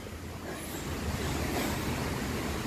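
Steady rushing river water fills the whole stretch, a broad continuous roar with a little breeze mixed in and no voices.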